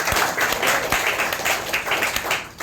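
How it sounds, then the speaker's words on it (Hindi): Enthusiastic applause from an audience at an award event, dense continuous clapping from many hands that swells and dips slightly throughout. "एक बार उनके लिए मैं जोरदार तालियां"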